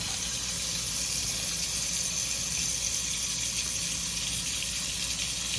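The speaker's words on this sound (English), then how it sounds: "Cover it with water." Water from a kitchen tap pours steadily into a container to cover frozen chicken, a constant close hissing gush with no break and no voices.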